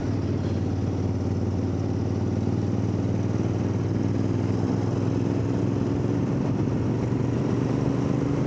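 Honda VFR Interceptor motorcycle cruising on the road, with a steady, loud engine drone and rushing wind, continuous with no pauses and no voices.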